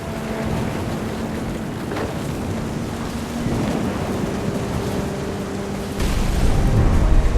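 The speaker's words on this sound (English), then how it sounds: "The thunder sounded much too close and full of angry power" Thunderstorm in What Remains of Edith Finch by a beach and the sea: continuous loud rain hiss with deep rolling thunder rumbles, a sharper crack near two seconds and a heavier boom surging in around six seconds.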